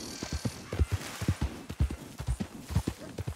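Horse hooves galloping in the Red Dead Redemption video game, a quick rhythmic clip-clop of heavy thuds repeating throughout, close and prominent, with faint background ambience and no talk.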